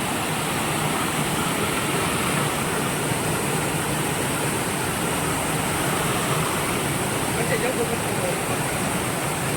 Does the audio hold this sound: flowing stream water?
yes